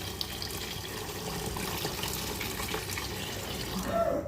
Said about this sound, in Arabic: عامله لحمه فاصب شويه شوربه كمان اهو